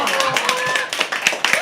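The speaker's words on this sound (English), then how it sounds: "keep the applause going for our next performer, Sara" A burst of clapping from a small crowd at a live poetry open mic, brisk and uneven, with a voice briefly audible underneath.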